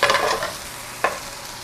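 Meatballs fry in a pan with a soft, steady sizzle, broken by a short burst of scraping at the start and one sharp clatter partway through.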